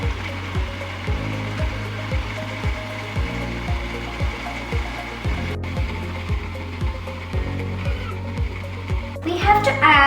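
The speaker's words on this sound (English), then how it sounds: "We need to mix everything in the food processor." A food processor blends tart ingredients like soaked mangoes and coconut cream with a steady, close motor whir that pulses rhythmically throughout.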